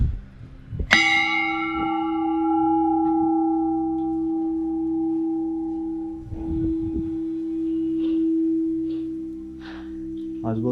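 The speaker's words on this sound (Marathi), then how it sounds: "केवढी मोठी घंटा आहे बघा समोर" A large temple bell at a hilltop Kalbhairav shrine is struck once, ringing out with a bright clang and a long humming decay. Faint background knocks and rustles continue beneath the sustained tone.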